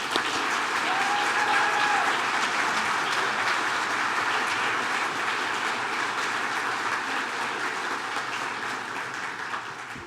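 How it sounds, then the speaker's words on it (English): A bar association annual meeting audience applauding at length, a dense, steady wash of clapping from a large room that slowly fades toward the end. "A round of applause."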